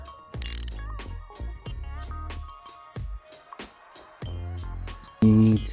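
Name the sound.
13mm socket ratchet undoing a turbocharger bolt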